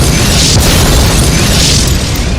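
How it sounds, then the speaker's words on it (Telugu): Powerful bomb blasts at Lumbini Park near Hussain Sagar in Hyderabad erupt in a loud, close, sustained roar of broadband noise that fills the whole moment without letup. "కోటి వద్ద శక్తివంతమైన బాంబులు పేలాయి"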